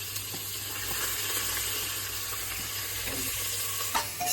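Onion, ginger and garlic fry in a pan for a quick chicken dish, hissing and sizzling steadily at close range with a few faint stirring knocks and no talk.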